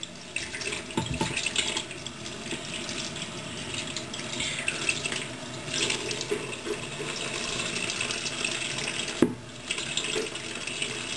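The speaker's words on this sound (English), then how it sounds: "Turn on the hot water." A hot water tap runs steadily with a constant hiss of flowing water, accompanied by faint rattling and a brief knock near the end.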